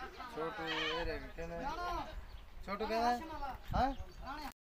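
Goats bleat repeatedly on a goat farm in Rajanpur, wavering cries overlapping one another at close range, with a voice talking over the bleats.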